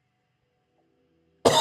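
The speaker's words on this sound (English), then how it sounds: "For some reason, I'm going to cough" A single abrupt cough bursts in close and loud after more than a second of near silence, cutting off at the end.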